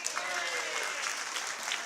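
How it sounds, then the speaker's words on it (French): An audience applauding children at a grilling event, a short burst of dense, steady clapping heard at moderate distance, with some speech mixed in. "Il faudrait applaudir les enfants quand même."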